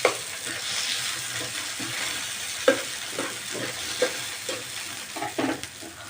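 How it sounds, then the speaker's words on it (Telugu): Tomatoes sizzle and fry in a pan for hotel-style chutney, with a steady crackle broken by scattered spatula scrapes and clinks as they are stirred, close and moderately loud. "టమాటాలు వేసుకొని కొంచెం కలుపుకోవాలి ఫ్రెండ్స్"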